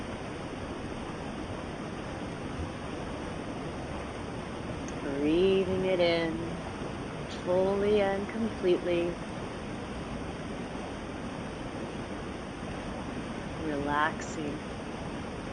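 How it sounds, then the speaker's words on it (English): A river flows with steady, broadband rushing water under a soft voice speaking calmly in a few short phrases. "You can hear the sounds of the river"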